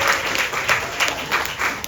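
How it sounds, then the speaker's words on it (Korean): Brief applause from a small audience at a first album listening session, even rhythmic clapping at moderate level with no talking. "박수 한번 부탁드릴게요."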